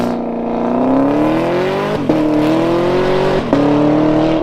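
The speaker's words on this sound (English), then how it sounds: "naturally aspirated large displacement V8s, and exhausts that actually sound good" A naturally aspirated large-displacement V8 muscle car revs up close, its deep exhaust note climbing steadily in pitch, with two quick gear shifts briefly interrupting the rising roar.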